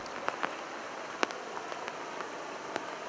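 Rainy-season rain falling at the headwaters of the Velho Chico river, a steady soft hiss of drops with a few sharper close patters scattered through.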